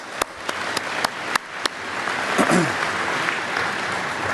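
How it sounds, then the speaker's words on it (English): Applause from a crowd, with a few sharp isolated claps at first building into a steady wash of clapping, a brief voice rising over it. "So let's give them a round of applause."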